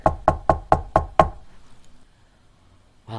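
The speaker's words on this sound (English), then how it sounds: "So he went around the house and he knocked on the back door." Six firm raps on a back door come in a quick even series, loud and close, then fade into quiet room tone as a story sound effect.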